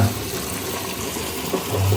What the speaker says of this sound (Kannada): ನೋಡಿ ನೀರು ಹಾಕ್ಕೊಂಡಿದ್ದೀನಿ, ಚೆನ್ನಾಗಿ ಕುದಿತೈತೆ ನೀರು